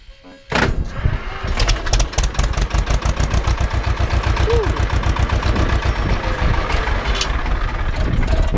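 An Ursus tractor engine chugs loudly and steadily after starting, revving with rhythmic low pulses close by.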